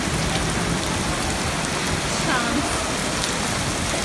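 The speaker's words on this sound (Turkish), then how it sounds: "Sağnak. Yağıyor ki markete sığındı." Heavy, steady rain pouring down in a dense, continuous hiss, loud and close, with no break throughout.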